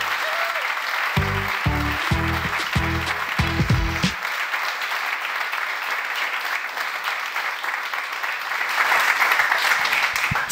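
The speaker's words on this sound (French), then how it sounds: "Des applaudissements pour elles" Audience applause on a French stage show as two women guests come out, broad sustained clapping from a crowd with a few low tonal bursts near the start and a slight swell toward the end.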